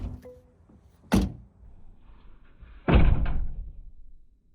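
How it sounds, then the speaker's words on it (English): Door of a 2023 Mercedes-AMG SL63 opens with a sharp click and closes with a heavy thunk, each a short loud hit in an otherwise quiet interior. "opening and closing the door feels kind of like it's heavy, but it feels and sounds cheap"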